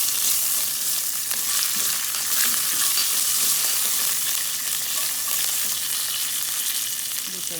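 Curry leaves frying with methi in hot oil, a bright continuous crackling sizzle close up, steady throughout with occasional spitting pops.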